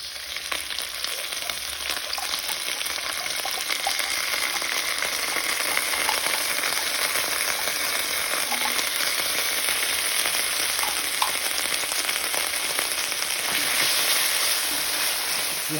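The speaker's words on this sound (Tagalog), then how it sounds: "ilalagay ko na yung Pure Foods na sisig" Purefoods sisig sizzles in a pan with sautéed onions, a dense, steady crackling fry that carries on loud and close without pause.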